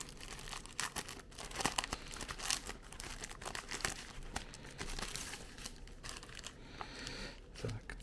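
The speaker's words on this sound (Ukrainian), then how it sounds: "Розпаковуємо сам пакетик." Continuous close crinkling and rustling of thin plastic, faint and busy with irregular crackles, as a packet is handled and opened.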